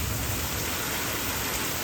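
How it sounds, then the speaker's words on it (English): Steady, dense rain keeps pouring after a hailstorm over a garden with netted tomatoes, a loud, even hiss with no breaks. "So we just had a hailstorm. It's still raining pretty good."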